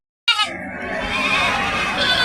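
Goats bleating at the Kunta goat market, a sudden loud nearby bleat followed by a drawn-out wavering cry against busy market murmur.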